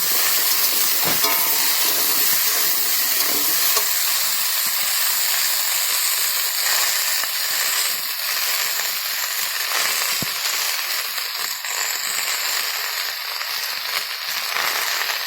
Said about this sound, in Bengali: এরকমভাবে আমি ভাজতে থাকবো ভালো করে